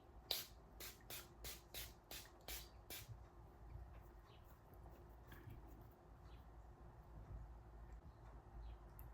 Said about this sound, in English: spray this on my skin